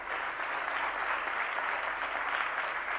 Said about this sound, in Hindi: जरा जोरदार तालियां बजाइएगा।